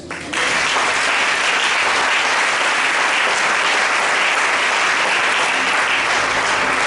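A church congregation bursts into steady, dense applause at a Sunday worship service during a fasting and prayer week, loud and sustained from start to finish with no speech over it.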